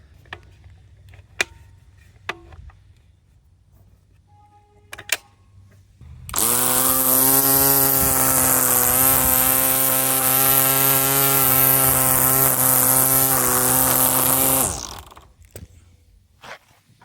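A lightweight string trimmer cuts along a lawn edge, a strong buzzing drone that starts abruptly after a few faint knocks, runs steadily for about eight seconds with slight wavering, then cuts off.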